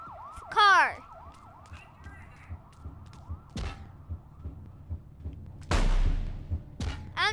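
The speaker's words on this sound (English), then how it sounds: "I hear a police car." A police car siren wails in repeating rising-and-falling cycles, steady and moderate, broken by a loud chirping sweep near the start and several sharp bursts and thumps later on.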